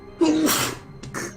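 A single loud sneeze up close, a sharp voiced burst followed by a short breathy second gust.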